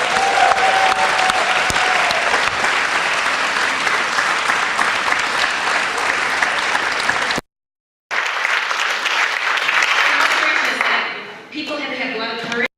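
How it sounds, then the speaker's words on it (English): An audience at a community story night claps in sustained, dense applause from a crowd, loud and continuous, cutting out briefly, then resuming and fading with some cheering and voices toward the end. "Another round of applause for these amazing stories."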